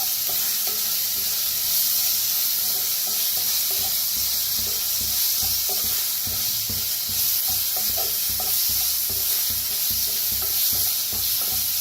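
Masala paste with curry leaves stirred and frying in a pan for a kadhi-vada dish, a steady sizzle and hiss with repeated scraping stir strokes throughout, close and loud, no talk.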